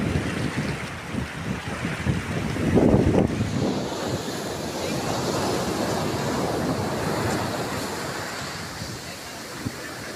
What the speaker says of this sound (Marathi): बघू शकतास लाटा खतरनाक मधली येऊक लागली असं.